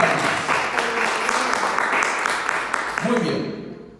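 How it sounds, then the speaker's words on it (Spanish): A church congregation applauds loudly and continuously, a dense wash of many hands clapping, with voices mixed in underneath before it fades out at the end. "Apláudale fuerte, que le tomen las palmas."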